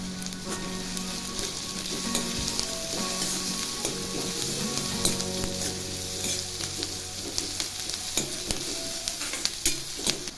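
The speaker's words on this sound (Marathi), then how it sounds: "कांदा छान असा भाजून घ्यायचा आहे यामध्ये म्हणजे आता हळद टाकायची आहे" Onion fries in a pan with turmeric for baingan bharta, a dense continuous sizzle with frequent clicks and scrapes of stirring, close and steady.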